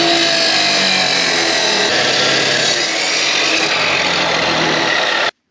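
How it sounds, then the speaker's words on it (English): A chop saw cuts through a steel piece behind a nut while making a tool for a 1939 Caterpillar D4 diesel, a loud continuous grinding whine that holds steady for about five seconds and then stops abruptly. "I think I'm going to put this in the chop saw and cut this off right behind the nut"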